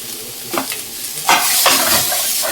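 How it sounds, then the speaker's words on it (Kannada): Grated radish fries in a pan while it is stirred. A soft sizzle runs under brief scraping bursts from a utensil, heard close with no voices. "ಜಾಸ್ತಿ ಉರಿಯಲ್ಲ, ಸ್ವಲ್ಪ ಹಸಿ ವಾಸನೆ ಹೋಗೋ ಥರ ಸ್ವಲ್ಪ ಫ್ರೈ ಮಾಡ್ಕೊತೀನಿ"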